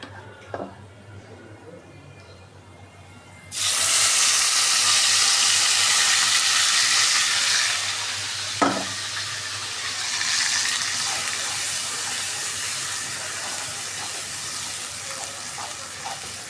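Water hits a pan of frying spices for chicken roast and erupts into a loud, sudden hissing sizzle that stays strong, then eases slightly as stirring clatters near the middle.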